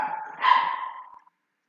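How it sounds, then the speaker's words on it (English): A single dog's bark from next door, short and fairly loud, fading out into silence. "the dog's going crazy again next door"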